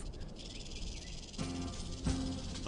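A rattlesnake on guard sounds its warning rattle, a steady dry buzzing hiss that runs continuously and grows slightly louder, with no voices present.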